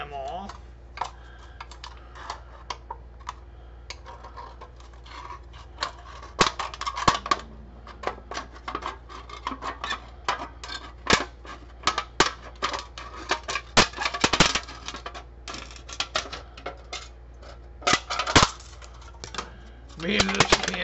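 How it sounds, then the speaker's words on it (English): Tin snips or shears cut the rim off a badly dented metal can, giving a steady run of sharp, irregular clicks and snips up close for about twenty seconds. "And then we gotta cut the rim off."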